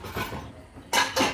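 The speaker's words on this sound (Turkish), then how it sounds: "Önce bulaşık makinesini boşaltalım" Two sharp bursts of clinking dishware close by as a dishwasher is unloaded, one just before the other, with a low kitchen murmur underneath.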